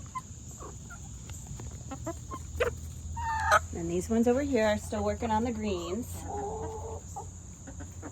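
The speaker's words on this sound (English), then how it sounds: "Oh my goodness, chickens." Chickens cluck and murmur nearby in a run among crickets chirping steadily, with several close, drawn-out clucking calls in the middle while someone speaks.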